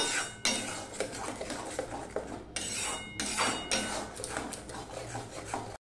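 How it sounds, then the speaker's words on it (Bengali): Capsicum chutney stirred in a pan with a utensil, producing continuous close scraping and clinking against the pan with several louder strokes, and a faint steady hiss underneath. "দিয়ে সমানে এটা আমি নাড়তে থাকবো"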